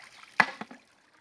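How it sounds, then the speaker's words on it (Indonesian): A bamboo water spout pest repeller (pancuran sayong) at a pond gives a single hollow knock followed by a softer second tap, quiet and close, with faint trickling around it. "Yang penting ini pancuran sayong terbuat dari bambu."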